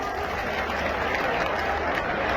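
Applause from a crowd gathered to welcome former chief minister Vasundhara Raje at a political event, a steady dense clatter of clapping that stays even and loud throughout with no pauses.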